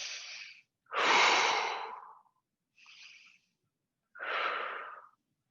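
Slow, deep breaths during outdoor tai chi by a bay, with long airy inhales and exhales separated by silent pauses and shorter breaths between, close and clear with no talking.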